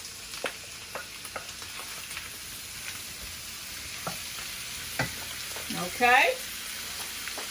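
Shrimp sizzle softly in a hot pan on a home stove, a low steady frying hiss broken by scattered taps and stirring clicks, with a brief spoken word near the end.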